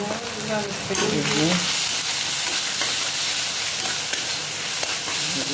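Spices sautéed and stirred in a hot pan: a loud, continuous hissing sizzle with scattered scraping stirs, and a voice briefly speaking near the start.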